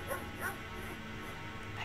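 A dog in the video game King's Quest VII gives a couple of short yelping barks at moderate distance over a faint background.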